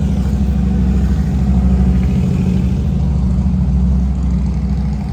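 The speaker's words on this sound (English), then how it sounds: "It's a Sears moped." A Sears moped runs at a car show, giving a steady, close mechanical hum with a low, even idle tone that holds without pause.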